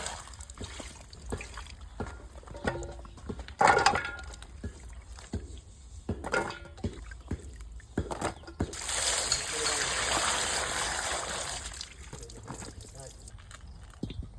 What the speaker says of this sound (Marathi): वांगे काढून घेऊ आणि मस्त स्वच्छ पाण्याने धुवून घेऊ